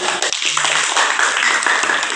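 A school class claps hands, a quick burst of children's clapping with voices mixed in, loud and close.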